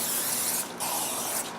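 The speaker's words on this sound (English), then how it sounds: "Crisco nonstick spray." Butter-flavored Crisco nonstick spray hisses onto an electric skillet in two steady bursts, with a brief pause between them, close and fairly loud with no talking.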